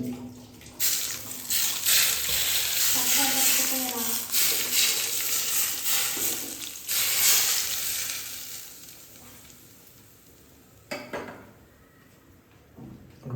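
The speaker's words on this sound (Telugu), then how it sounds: "వీటిని వేయించిన ఆయిల్ దీని మీద వేసేస్తా ఇది వేడి ఆయిల్ అండి" Hot frying oil poured over cooked rice, giving loud bursts of hissing sizzle that surge, pause and fade toward the end, with a faint voice at times.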